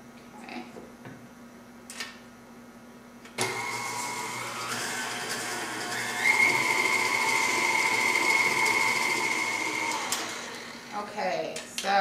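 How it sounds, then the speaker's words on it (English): Electric stand mixer running steadily while creaming blondie batter, a continuous motor whine that rises in pitch partway through, with kitchen noise and brief clatter at either end. "I'm going to add that to my mixer. And then we're going to turn this on."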